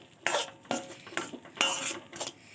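Fried puffed rice being stirred into milk to form a dough, several quick scraping strokes against a pan in an uneven rhythm, close and fairly quiet, no voices.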